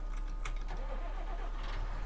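A tractor engine in the video game Farming Simulator 19 rumbles at a steady low idle, close and constant throughout, with faint mechanical ticks over the hum.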